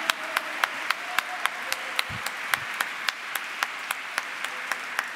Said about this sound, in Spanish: el aplauso y el reconocimiento de pie para la señora Nora Morales de Cortiñas